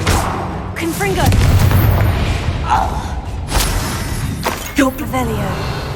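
Confringo spell blast in the Hogwarts Legacy video game, a loud booming explosion with crackling debris amid continuous game sound, while a voice shouts over the action.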